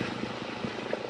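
A helicopter climbing overhead in the Swiss mountains, a steady rumbling rotor and engine drone heard at a moderate distance, without anyone talking.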